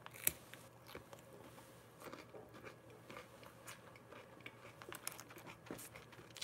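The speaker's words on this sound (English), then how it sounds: "You hear it? Crunchy. Tastes like broccoli." Crunchy chewing of a food that tastes like broccoli: faint, close, irregular crisp crunches and bites over a quiet indoor background, with no talk.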